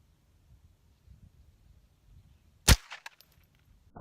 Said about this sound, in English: I'm gonna shoot a little higher and see if we can't stop it.